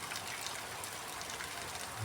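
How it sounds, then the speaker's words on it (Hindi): Rain falls steadily in Thoothukudi, Tamil Nadu, a dense, even hiss of drops on surfaces that holds at moderate volume throughout with no voices. "तो बारिश भी हो रहा है तो अच्छा है।"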